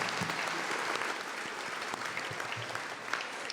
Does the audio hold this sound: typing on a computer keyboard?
no